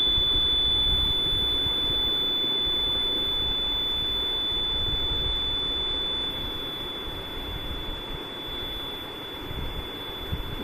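A null detector on a Maxwell's bridge circuit emits a steady, high-pitched electronic tone over a low background hum, holding constant and easing slightly quieter toward the end.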